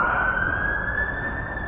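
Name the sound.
sirens in a park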